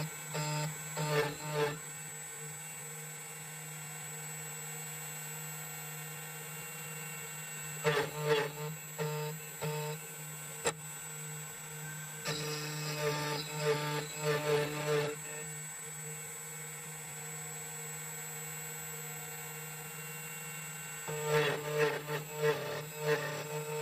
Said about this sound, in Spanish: Después de que todo esté listo, comience a cortar la llave.